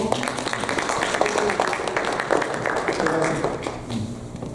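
A church congregation at a Korean Presbyterian Sunday service claps in applause, dense steady clapping filling the room with a voice speaking over it.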